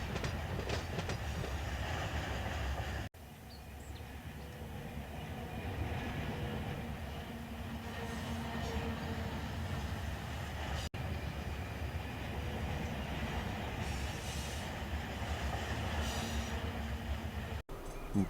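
Freight train in Run8 Train Simulator rolling along a branch line while braking, a continuous low rumble with rail clatter and a faint metallic squeal, broken by a few sharp cuts in the sound.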